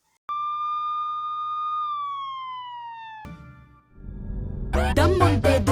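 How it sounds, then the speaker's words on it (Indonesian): A police siren in a film sounds a steady tone that slowly slides downward, then cuts off into a rumbling rush, followed by a loud burst of harsher noise. "mendengar suara sirene polisi begitu dekat dengan tempat"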